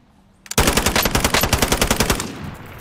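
Machine gun gunfire rattles out in the video game Call of Duty: Modern Warfare, a loud rapid burst of about fifteen evenly spaced shots that starts abruptly and tails off slightly over a couple of seconds.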